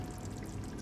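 Lukewarm water poured into a pot of lamb yakhni pulao, a steady close-up rushing splash that runs without a break for under a second.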